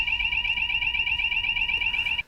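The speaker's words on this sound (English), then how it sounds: "The fire alarm with a continuous tone means the fire is in your area." A factory fire alarm sounds a steady, continuous electronic tone, loud and unbroken for about two seconds before it cuts off abruptly.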